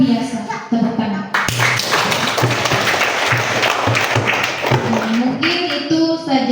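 A crowd at a school student council inauguration bursts into loud, sustained applause for several seconds, with a voice speaking briefly before and after.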